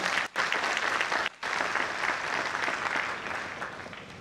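Applause from the audience at a naval training course passing out ceremony, a broad, continuous wash of many hands clapping that breaks off briefly twice before carrying on steadily.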